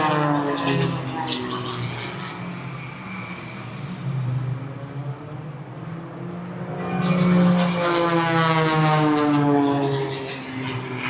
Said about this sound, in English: As he returns yet again with an amazing image of the 737 passing by after.